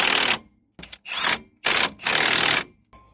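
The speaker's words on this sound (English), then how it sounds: "get the impact gun and the 18mm socket again to run these up" Impact gun with an 18mm socket running up lug nuts on a 2001 Jeep Grand Cherokee during a brake job, firing in several loud, close rattling bursts separated by short pauses.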